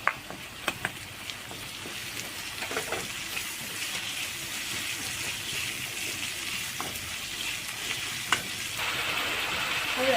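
Onions and potatoes frying in a pan for Kathiyawadi batata poha, giving a steady close sizzle throughout with a few brief stirring clinks and scrapes, and no voices.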